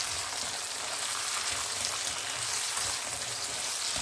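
Onions fry in a pan with a dense, steady sizzle and crackle throughout, close up and without talk, as the base for ginataang manok.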